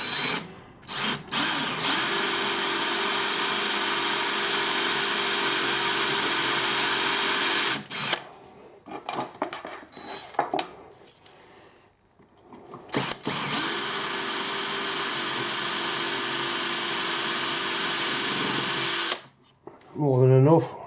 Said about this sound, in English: I've actually just bought this drill